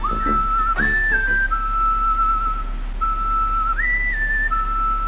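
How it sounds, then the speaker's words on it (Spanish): A woman character in Yo-kai Watch 3 whistles a simple tune, clear and loud, with long held notes that step up and down in a slow, lilting pattern over a faint background hum. "Aquí conoceremos a esta pava a la que le gusta silbar."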